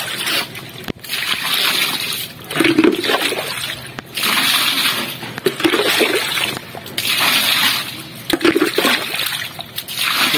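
Water drains through a drainage channel in repeated splashing, trickling surges, each lasting about a second and recurring every second or two at close range.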